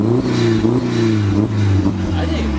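A turbocharged BMW E36 M3 fitted with an RKX blow-off valve revs loudly and close by, its engine tone climbing and falling in steady harmonic bands with a hissing, whooshing edge.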